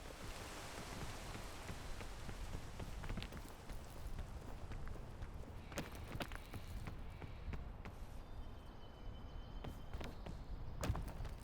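Rainfall in the video game PEAK, a constant broadband patter with occasional sharper ticks and hits, steady level and no voices.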